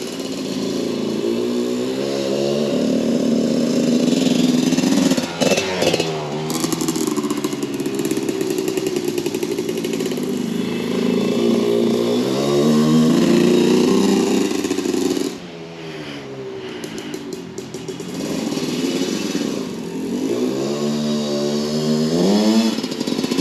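A 1989 Honda CR125R two-stroke dirt bike engine runs loud and close, revving up and down in repeated rising and falling sweeps, with a brief drop around the middle before climbing again.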